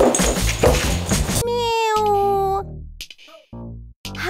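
A cat lets out a drawn-out, wavering meow lasting about a second, loud and close, following a noisy stretch, with a few short fainter sounds after it.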